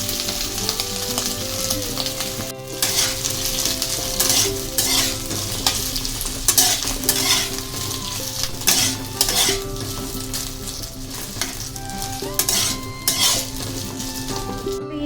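Potato curry made with boiled potatoes sizzling and frying in a pan, with a spoon repeatedly stirring and scraping against the metal, close and continuous with rhythmic clinks over the steady sizzle.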